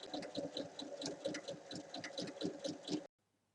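A sewing machine runs in a steady, fast rhythmic stitching burst for about three seconds while joining the four sides of a fabric bag lining, then stops abruptly into silence.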